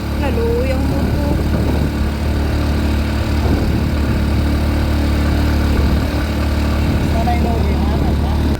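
Motorcycle engine running on a rough mountain trail with no road, a steady low idling rumble with vibration throughout while people talk over it.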